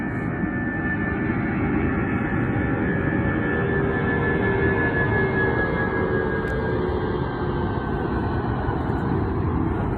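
An airplane takes off at an airport beneath a hot air balloon, its engine a loud, steady roar with a slowly gliding whine, continuous throughout, with no voices.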